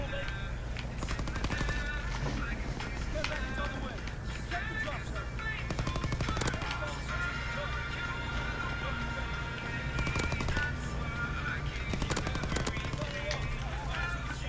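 Rapid bursts of PPSh-41 submachine gun fire in Call of Duty WWII, loud and dense with overlapping shots and repeated volleys over a background of game noise, with a player talking at times.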